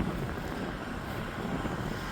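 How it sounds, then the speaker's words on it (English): Cold wind blows outdoors during snowstorm cleanup, a faint, steady broadband rush buffeting the microphone with no other sounds. "even though it's cold and windy"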